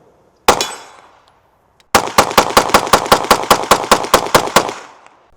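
Pistol shots ring out against a steel target: one loud crack, a pause, then a rapid string of about fourteen evenly spaced shots, close and sharp.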